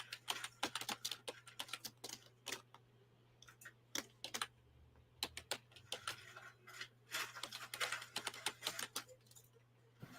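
Typing on a computer keyboard, rapid irregular clicks and key taps in uneven bursts over a faint steady electrical hum, close but quiet.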